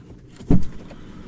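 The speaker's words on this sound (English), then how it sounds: "Let me just try opening the door." A Volkswagen Polo Facelift Comfortline 1.0 petrol car door opens with a single short, dull clunk that stands alone against quiet background noise.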